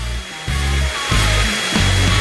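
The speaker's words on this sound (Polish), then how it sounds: "Jak dobrze, że mam ręczny odkurzacz. Zawsze mi pomaga w takich chwilach." A handheld vacuum cleaner sucks up spilled pepper in a kitchen, whirring in several short, loud bursts that switch on and off with brief pauses between them.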